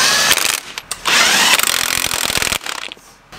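An impact wrench with a 21 mm socket tightens the bolts of a Brembo brake kit on a V6 Charger, firing loud, close, rattling bursts that stop and start in short spurts.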